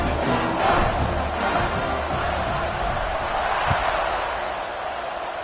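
Large stadium crowd at a night college football game roaring continuously, a dense, loud wash of cheering and shouting that stays steady throughout.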